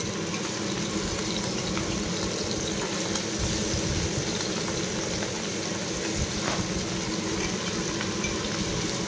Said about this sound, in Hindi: गरम होगा गोटे गोटे एमती माछ पकईकी भाजवा।